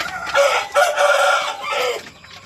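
Native chickens crossed with Plymouth Rock, a rooster crowing loudly and close in several drawn-out calls over about two seconds, with clucking around it on a farm.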